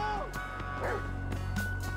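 A dog barks repeatedly in GTA V, several sharp yaps and bow-wows over a steady low game-engine hum, with a voice shouting briefly in between.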